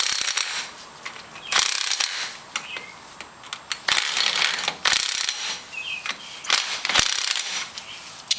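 Lug nuts are run down quickly onto a dually wheel spacer, making loud, close ratcheting clatter. Rapid clicking bursts alternate with short pauses and metallic rattles, with no talking.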